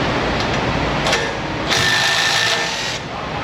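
Impact wrench running with a 17 mm stubby 6-point impact socket in a repair shop, a steady loud mechanical whir with a brief buzzing burst in the middle, heard alone without voices.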